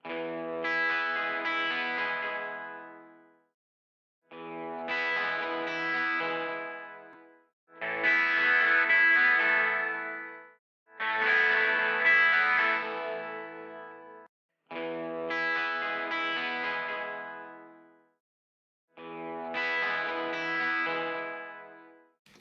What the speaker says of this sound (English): this 2 dB down here helps to control some of that jangly sort of sound that you can get from 12-string guitars